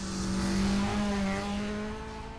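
A race car in The Crew accelerates with a loud, steady engine drone over the whole stretch, its pitch holding high and easing slightly near the end, with no talk over it.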